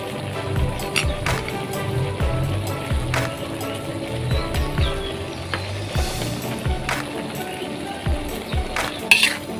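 A spatula clinks and scrapes against a pan in irregular strokes while Thai jungle curry with fish and torn kaffir lime leaves sizzles quietly underneath, close and moderately loud.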